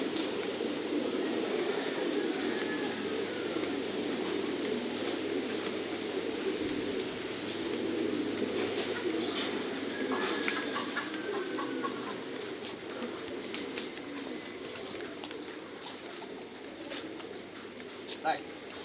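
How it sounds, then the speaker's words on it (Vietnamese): A flock of pigeons coos throughout inside a pigeon breeding farm, a soft layered murmur of calls over a steady low hum. "Đây là mình nuôi chim bồ câu quần thể nha."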